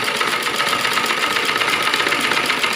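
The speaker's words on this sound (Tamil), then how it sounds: "இந்த மாதிரி கடைசி வரை தச்சு முடிச்சிடணும்." A sewing machine stitches lace onto a blouse, a fast, steady, close mechanical whirring with an even rapid pulse throughout and no talking.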